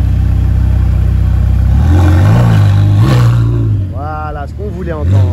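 A Bugatti Chiron Super Sport 300+ supercar on a Paris street starts with a deep rumble, then revs in loud rising and falling roars, with talk over the engine sound.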